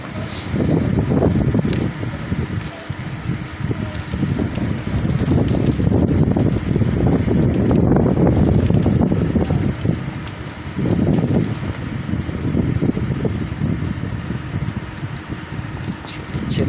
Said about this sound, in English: If you hear wind, I'm sorry. It'll be out. It's been storming.